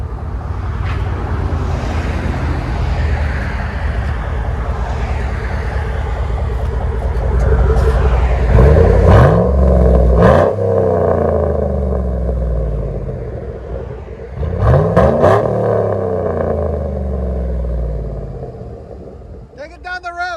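Chevy Tahoe with a 5.3L V8 and modified exhaust driving down the road, a deep loud rumbling drone that swells twice as it accelerates, with someone talking over it.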